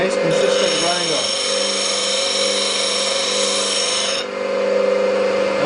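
A bench grinder runs steadily at close range as a woodturning skew chisel is sharpened against the wheel, a continuous tonal whine with a grinding hiss that eases slightly near the end.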